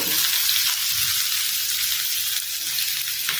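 Cumin seeds and onions frying in hot oil for a jowar masala dosa, giving a steady close, bright sizzle with fine crackling pops throughout and no talk.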